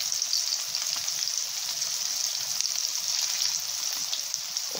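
Chicken testicles and eggs fry in a small amount of oil in a pan, giving a steady, fine sizzle with crackling pops throughout, close and even, with no talking.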